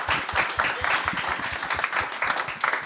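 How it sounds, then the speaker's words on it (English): An audience applauds panelists at a talk on VC fundraising for Black founders, a dense, steady burst of many hands clapping together from start to finish, fairly loud and close. "Let's clap for them"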